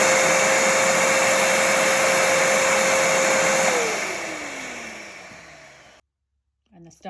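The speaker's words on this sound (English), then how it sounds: "an example of what a competitor shop vac would sound like" A competitor shop vac runs loud and steady with a constant whine, then powers down and its pitch slides lower as it spins to a stop, leaving near silence.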